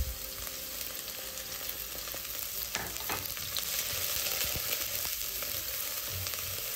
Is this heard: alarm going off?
no